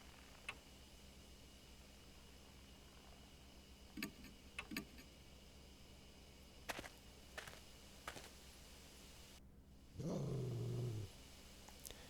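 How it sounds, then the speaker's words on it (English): A single low, rumbling growl from an unseen creature in the horror game Spirit Hunter: Death Mark rises near the end, following quiet ambience broken by a few faint ticks. "I hear a low growl from somewhere. I can't see what's making it, but it seems to be watching me."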